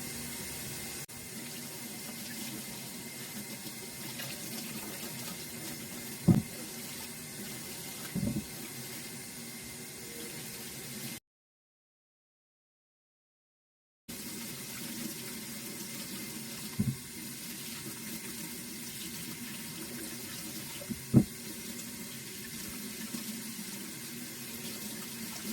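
Tap water runs steadily over freshly harvested potatoes in a sink, a close, continuous hiss and splash with a few small knocks. It breaks off briefly partway through, then resumes.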